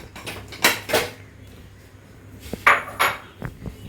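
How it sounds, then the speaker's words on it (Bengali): Mashed papaya bharta being scooped from a pan into a bowl, a series of sharp metallic scrapes and clinks of a spoon against dishes, clustered in two groups with a quiet pause between. "এটা আমি একটা বাটিতে উঠাই রাখি।"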